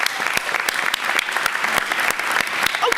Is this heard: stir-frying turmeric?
no